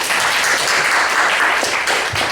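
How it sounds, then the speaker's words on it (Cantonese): Loud, sustained applause from an audience at a church tea gathering, a continuous thick patter of many hands clapping at close range with no pause. "俾啲掌聲阿蘇怡姊妹先"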